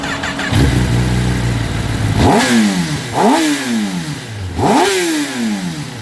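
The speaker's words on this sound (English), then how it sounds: "this bike is a 998cc, just shy of 1000cc inline 4 4-stroke motor" A 2019 Kawasaki Ninja ZX10RR World Superbike with a 998cc inline-four four-stroke engine idles loudly, then revs sharply three times, each blip rising and falling quickly, close and alone.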